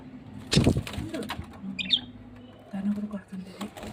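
Pet budgies scuffle and flap their wings in bursts, with sharp fluttering and a few chirps, close by, while a person talks between the scuffles.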